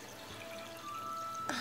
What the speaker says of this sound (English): Squirt all the water out.